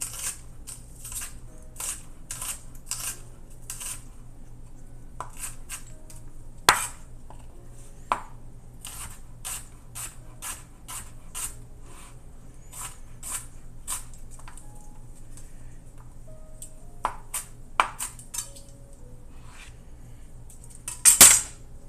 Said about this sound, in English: I'm just going to very thinly finish up this onion